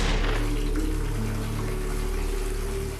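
Water running steadily from a bathroom tap, a continuous broadband rush with a low hum beneath, fairly loud and close with no voices.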